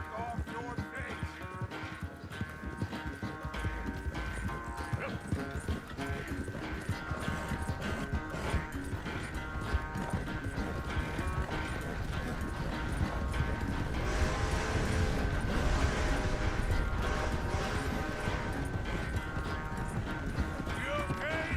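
Horse hooves clip-clopping in Red Dead Redemption 2, a steady rhythmic patter running under dense game music and ambience for the whole stretch, with voices talking over it.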